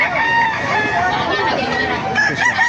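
Roosters crow repeatedly amid a busy yard of clucking fowl and murmuring voices at a market in Bocaue, several birds overlapping at close range.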